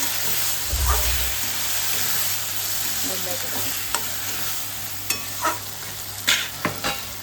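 Tomato vegetable curry stirred in a pan, a continuous frying hiss with a low thump early on and several clinks and scrapes of a spoon against the pan toward the end.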